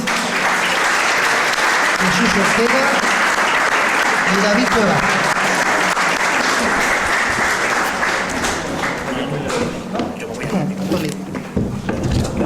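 Audience at a talk on UFOs welcoming speakers with sustained, loud applause that fills the room, while a presenter speaks over it near the end.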